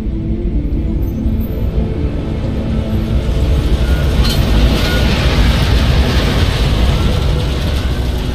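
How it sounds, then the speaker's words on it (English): A train pulls into a station in the video game Deus Ex: Mankind Divided, a steady loud rumble of rail wheels and engine throughout, with a faint metallic squeal midway and no talking. "Just getting off the train now"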